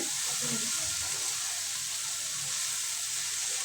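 Washed cabbage, potato and carrot go into a hot pan for a mixed vegetable bhaji, giving a steady, even sizzling hiss that holds throughout without a break.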